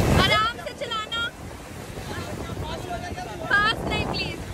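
A small boat rides sea waves off Goa with strong wind buffeting the microphone, water rushing and slapping beneath while people talk in bursts over it.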